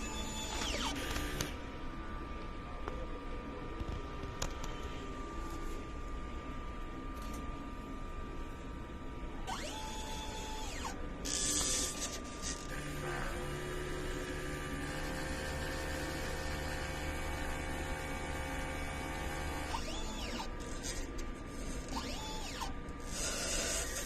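A DTF printer runs a head cleaning cycle, whirring and clicking with motor hums, ratcheting ticks and brief higher whines, all close and steady with no talk.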